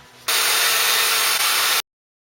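Polishing a Suzuki RGV250M motorcycle frame gives a loud, steady abrasive hiss that starts abruptly, holds for about a second and a half with one brief dip, then cuts off.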